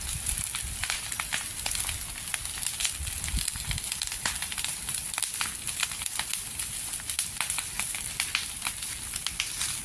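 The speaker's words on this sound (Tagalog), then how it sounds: "Nakakatakot yung apoy. Ang sakit-sakit ng apoy." Loud, continuous fire crackling with dense pops and snaps over a steady roaring hiss, close and unbroken throughout, as fire burns banana plants on a small farm in strong wind.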